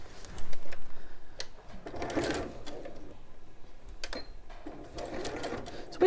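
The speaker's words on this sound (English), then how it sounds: "It's weird using a different sewing machine to the one you're used to at home, isn't it?" A sewing machine stitches the side seams of a quilt, running in several loud whirring bursts with brief pauses between them, close up and with no talking.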